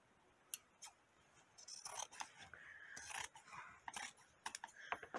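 Scissors snip through fabric while a pincushion doll is being made, a few quiet, separate cuts followed by a quicker run of crisp snips close by in an otherwise hushed room.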